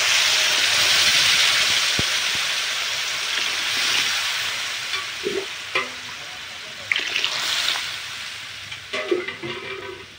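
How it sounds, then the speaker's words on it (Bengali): Water going into a pan of dumri curry after the spices and vegetables have been fried down, a broad wash of hissing sizzle with scattered clinks and stirring scrapes, steady and close. "তো জল দিয়ে দিছি"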